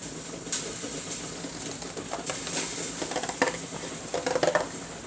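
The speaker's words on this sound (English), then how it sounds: "So that's what you're hearing, is eggs boiling." Eggs boiling in a pot on a stove, with a steady bubbling hiss and scattered clinks and knocks of shells against the pot.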